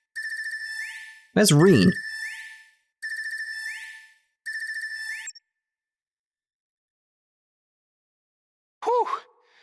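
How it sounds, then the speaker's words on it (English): Phone ringing in the video game Trails of Cold Steel 3: repeated electronic ring bursts in a steady pattern, loud and close, with a voice speaking briefly between rings and another short voice near the end. "Seems like we have a phone call. Someone pick it up, please."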